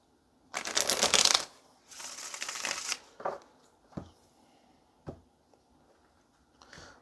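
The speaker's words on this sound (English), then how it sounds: "All right, one more shuffle." A tarot deck is shuffled close up, with a loud riffling burst, a second softer shuffle, then several light taps and clicks as the cards are squared and set down.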